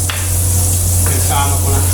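Garlic and onion frying in butter for shrimp and broccoli give a loud, constant sizzle with a few clinks of stirring over a steady low hum.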